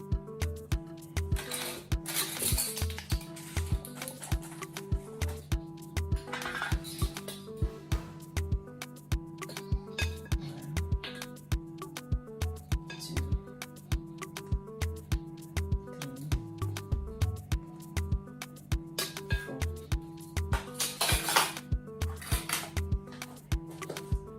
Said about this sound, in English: I'm going to mix the dry ingredient flour, sugar and baking powder here